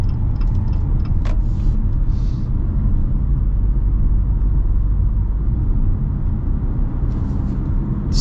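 A 2025 Jeep Compass Altitude under way, heard from inside as a steady low engine and road rumble with a constant drone throughout, a few faint ticks and clicks on top, no talking.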